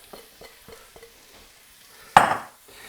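Leeks hit melted butter in a large skillet over low heat and burst into a sudden loud sizzle that fades over a second, after a few soft taps and knocks.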